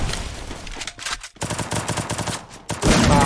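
Rapid bursts of automatic gunfire in a 4v4 shooting video game match, loud and close, with a short pause before another sustained volley.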